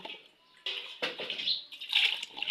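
Running water splashes over long-refrigerated meat being rinsed by hand, with uneven bursts of splashing and dripping, close by and fairly quiet.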